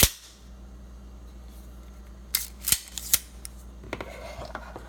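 A single-action out-the-front knife fires its blade with a few sharp, crisp metallic clicks and snaps near the mic, after a quiet stretch.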